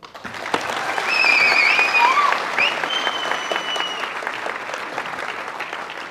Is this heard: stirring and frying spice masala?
no